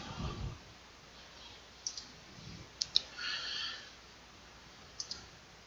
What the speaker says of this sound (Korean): 여기서 확인 버튼을 눌러보겠습니다.